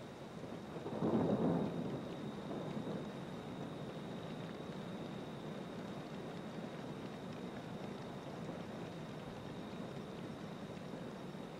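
Desert thunderstorm with a rumble of thunder early on, then steady rain hissing continuously, moderately faint and even, with no voices.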